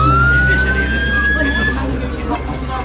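An ambulance siren sounds loud and near as it arrives at a crowded scene, a rising tone sweeping steadily above heavy traffic rumble and crowd noise, with voices faintly present.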